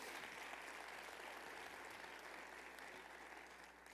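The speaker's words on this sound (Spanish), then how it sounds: "Déselo fuerte si es para el Señor, ese aplauso" A church congregation at a worship service applauds, a steady, dense wash of clapping that carries on without a break and stays fairly faint.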